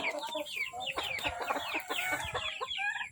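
Young chickens around two months old cluck and chirp busily in a brood pen, a dense overlapping chatter of many birds at moderate distance with no talk.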